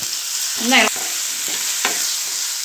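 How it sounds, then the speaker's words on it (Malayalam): Chopped onion and ginger, garlic and green chili paste sizzle in a hot pan, with a steady frying hiss and brief scraping stirs of a spoon, while cooking the filling for Kerala-style masala dosa. "സവാള ചെറുതായിട്ട് അരിഞ്ഞതൊന്ന് ഇട്ട് കൊടുക്കാം. 1 ടേബിൾ സ്പൂൺ ഇഞ്ചി, വെളുത്തുള്ളി, പച്ചമുളക് പേസ്റ്റ്,"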